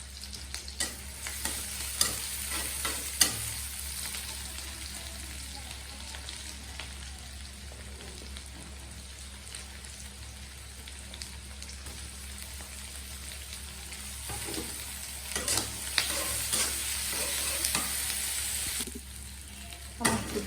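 Dried fish (shutki) being lightly fried in a little oil with a touch of onion in a pan, a steady close sizzle with occasional scraping stirs and clinks throughout, no voices.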